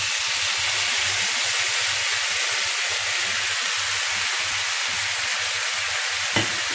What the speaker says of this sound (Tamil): இப்போ நான் காய போடுறேன்.